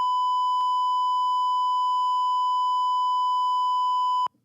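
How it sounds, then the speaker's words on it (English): A steady electronic sensor beep holds one pure tone for about four seconds, loud and continuous, then stops abruptly. "do I have a beep? I have a beep sensor."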